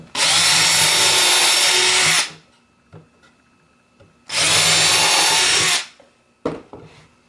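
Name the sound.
power drill drilling pilot holes in wood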